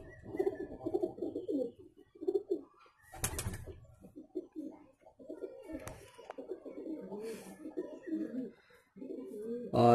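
Laldum red tail high flyer pigeons cooing close by, a steady run of soft, throaty coos repeating through the whole stretch with short pauses, plus a brief burst of fluttering noise partway through.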